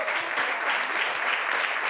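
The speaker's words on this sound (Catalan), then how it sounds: "Molt bé, un fort aplaudiment." Audience applause at an award ceremony, steady dense clapping from a crowd, close and continuous throughout, with a faint murmur of voices beneath.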